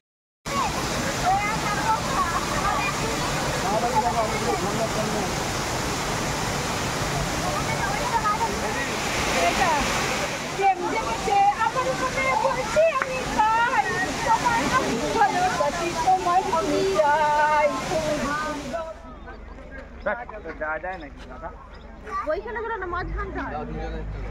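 Bamni Falls in Purulia roars with dense, steady broadband rushing water that stays loud and close throughout, thinning and dropping in level near the end, with faint voices mixed in beneath the flow.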